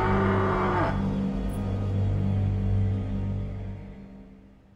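A low, drawn-out cow-like moan from a creature in the horror video game Until Dawn, loud and close at first, then settling into a sustained rumbling drone that fades away toward the end.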